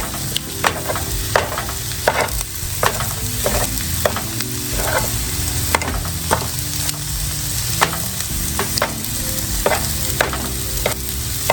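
Chopped yellow onion sizzling steadily in a hot pan for white lasagna soup, with repeated sharp scrapes and taps of a spoon stirring it throughout, alone and close.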